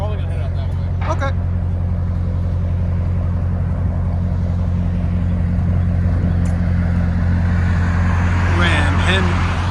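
A 2014 RAM 1500 with a 5.7L Hemi V8 and Carven R-Series exhaust with resonator delete, idling with a deep, steady, rumbling exhaust note close by, while people talk over it.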